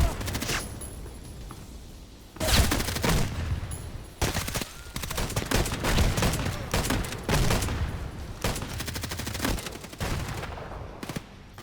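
Light machine gun fire and grenade launcher blasts in the online shooter Contract Wars, with dense rapid bursts and heavy booming explosions in a near-continuous barrage, a voice speaking faintly underneath.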